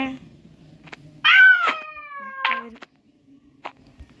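Cat meowing in the video game Ice Cream 2, a single drawn-out, wavering meow heard close and clear, with quiet background sound and some faint talking.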